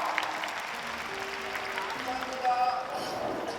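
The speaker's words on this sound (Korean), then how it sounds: "우리 감독님과 배우님께 다시 한번 박수 부탁드리고요" Audience applause at a film festival open talk with the director and cast, a moderate wash of clapping heard under people talking on the stage.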